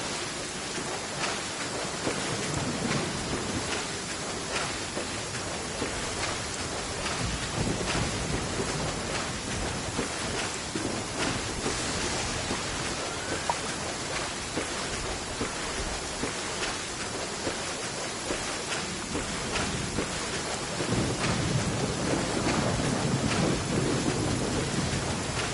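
Rain and thunder in the video game Genshin Impact, a steady dense hiss of rainfall with rolling rumbles of thunder that grow heavier near the end, no voices.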